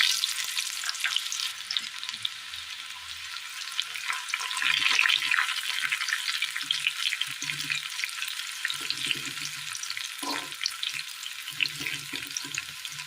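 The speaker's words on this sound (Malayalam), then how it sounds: "പൊട്ടിക്കഴിഞ്ഞ കടുകിലേക്ക് ചെറിയുള്ളി അരിഞ്ഞത് ഇട്ട് കൊടുക്കാം." Chopped shallots hit hot oil with already-popped mustard seeds, giving a steady crackling sizzle with occasional stirring scrapes, close and continuous with no talking.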